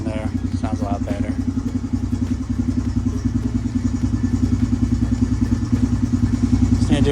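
A Honda TRX 250EX ATV engine with a new exhaust tip idles steadily nearby with a throaty, pulsing exhaust burble and a brief voice in the background.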